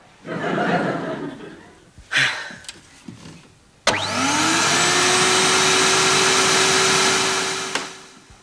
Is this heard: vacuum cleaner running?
yes